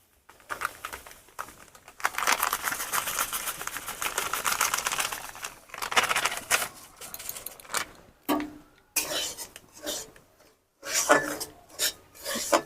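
Semolina being roasted in melted ghee in a pan, a dry rasping, scraping stir of the spoon through the grains, close and moderately loud, with intermittent strokes and short pauses.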